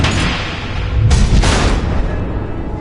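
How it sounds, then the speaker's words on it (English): Missile explosions in a Batman video game, two heavy booming blasts in quick succession over a continuous rumbling roar, loud and close with no talk. "The missiles."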